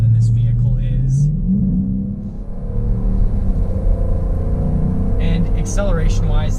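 A 2019 Dodge Durango R/T with a 5.7 Hemi V8 accelerating onto an interstate, a steady low engine rumble rising in pitch from inside the cabin, with people talking over it.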